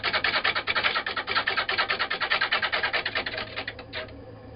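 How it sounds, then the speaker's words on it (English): Abrasive mesh sanding the inside of an oak bowl spinning on a lathe, a loud steady rhythmic rasping with rapid regular pulses throughout that fade near the end. "I'll just sand the inside of it gently"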